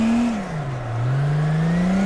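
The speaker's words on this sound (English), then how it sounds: "This is quite a bit of wheel spin" A drifting car's engine drones at low revs while its wheels spin, a close, steady tone that dips slightly in pitch and then rises again and holds, with a faint whirring underneath.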